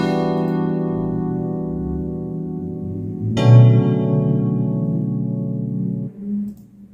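Sustained synth chords for a pluggnb melody, a minor 9th voicing held steadily, then a new chord struck with a bright attack around the middle and a lower chord near the end, clear and alone without talk.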